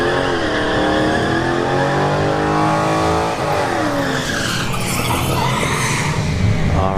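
Drag racing cars at a dragstrip do burnouts, with a loud close engine roar rising and falling in pitch alongside sustained tire squeal and skidding that continue throughout.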